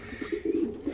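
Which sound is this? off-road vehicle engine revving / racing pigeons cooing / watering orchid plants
racing pigeons cooing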